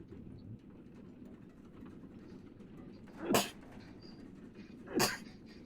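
Two sharp sneezes, about two seconds apart, burst out close and loud over a low background murmur during a tabletop role-playing game session.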